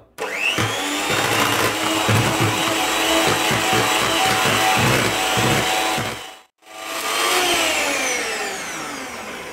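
Electric mixer beating hot Italian meringue for glace italienne, a loud steady motor whir with rhythmic low thumps of the beaters, briefly cutting out near the end before restarting.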